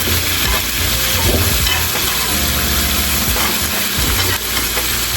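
Butter and onions sizzle and crackle in a hot pan over a high flame while gravy for turkey meatballs is prepared. A dense, continuous frying hiss is punctuated by stirring scrapes and clatter throughout, with no talking.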